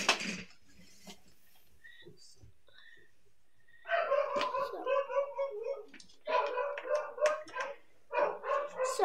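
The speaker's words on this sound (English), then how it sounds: "Lots of dogs barking." Several dogs bark in repeated bursts at a moderate distance, the barking coming in clusters with short pauses between them, while a person speaks quietly nearby.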